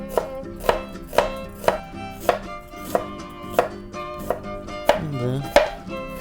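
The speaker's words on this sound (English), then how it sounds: "We're gonna start with our onion, just like this." A knife chopping an onion finely on a board, with about ten crisp, evenly spaced thuds roughly every half second, close and clear, and no talking.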